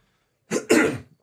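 A man coughs twice in quick succession, harsh and close, the second cough longer, set against near silence, caused by allergies.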